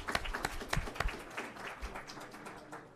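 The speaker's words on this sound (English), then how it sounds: "let's give HSU a round of applause and say thank you so much" A round of applause from an audience at a panel event, sparse scattered claps with a few sharp louder hand strikes early on, then thinning and tapering off.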